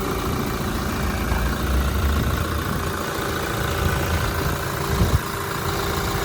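A 2019 Toyota Landcruiser Prado Kakadu with about 50,000 km on it runs at idle, giving a steady, close, even engine drone with a low rumble throughout and no talking.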